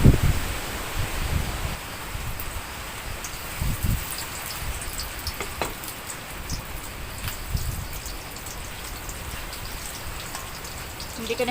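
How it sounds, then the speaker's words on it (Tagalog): Steady rain patters on surfaces with strong gusting wind in the aftermath of Typhoon Pepito in the rural Philippines, a dense constant hiss with a few louder drops and occasional rustles, no talking. "Grabe, lakas pa rin ang hangin."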